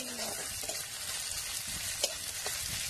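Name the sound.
onions frying in a pan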